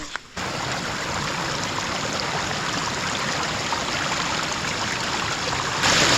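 A forest spring stream in the rainy Konkan jungle flows close by in a continuous, loud, even rush of water that runs unbroken throughout.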